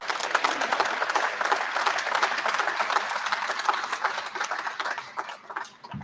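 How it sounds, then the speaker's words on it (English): Indoor audience at a high school baseball anniversary celebration claps steadily, a dense burst of applause that fades slightly near the end. "Would you give Jim a round of applause?"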